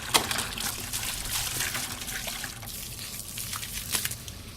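Water flows in a continuous trickling rush as it washes gold-mining material down a sluice, with a few splashy surges and no talking.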